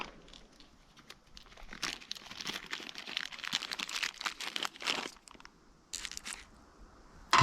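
Crinkly plastic goodie bag of pressure washer accessories rustled and crumpled at close range, steady rummaging crackles for several seconds with brief pauses, no talking.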